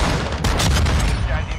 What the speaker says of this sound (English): Oh, wow. Shotgun.